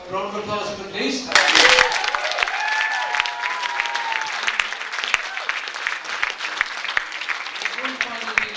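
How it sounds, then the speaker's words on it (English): Applause from the audience at a venue reopening and awards event, starting as a short burst of claps and carrying on steadily for several seconds, mixed with faint voices and whoops from the crowd. "Round of applause for them, please."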